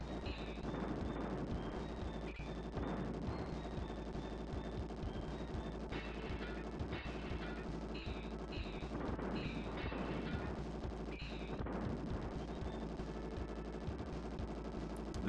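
Gunfire in the video game Bazooka Blitzkrieg, heard as bursts of rapid shots and explosive blasts over a continuous game soundtrack throughout.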